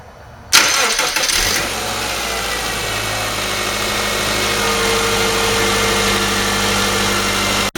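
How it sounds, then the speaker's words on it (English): A car engine cranks briefly with a loud whir, catches, and settles into a steady, close idle that hums on until the end, with a fuel line spliced for fuel injector cleaning. "I'm going to start the car to make sure there's no leaks"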